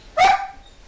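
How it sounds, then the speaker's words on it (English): A dog gives a single sharp bark, close and loud, that trails off quickly into quiet. "that's my dog again"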